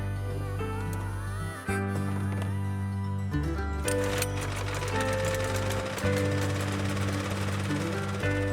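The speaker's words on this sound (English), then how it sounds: "leaving the centre section of the cylinder fully open to the grass, which does help to cut a longer lawn" Cylinder lawn mower cutting a longer lawn at the first grass cut of the year, a close steady mechanical whirr and clatter with a brief dip partway through.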